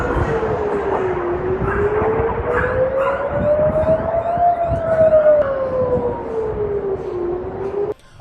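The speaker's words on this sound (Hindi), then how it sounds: "जैसे ही हवाई हमलों के सायरन बजते हैं" An air raid siren wails in Israel, loud and close, its pitch rising slowly and falling again in one long sweep before cutting off abruptly.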